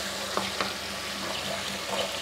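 Water streams into a pan of frying potato curry with chilies, a steady hissing rush at moderate distance, with faint crackles and a few soft clinks scattered through it.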